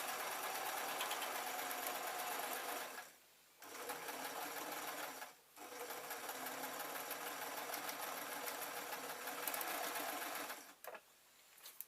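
A sewing machine stitches an elephant-shaped felt pin cushion in three long, steady motor runs broken by brief pauses, close and fairly quiet with no talking.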